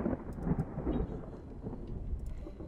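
Low rumbling thunder rolls under steady rain in the horror game Home Sweet Home, a muffled continuous storm rumble at moderate distance.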